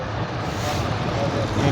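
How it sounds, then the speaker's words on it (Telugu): Buses and other vehicles pass along a road near Nandi Circle in Tirupati, giving a steady, close rumble of traffic noise with no breaks. "నీట్గా బస్సులు కూడా, వెహికల్స్ కూడా పోతా ఉన్నాయి."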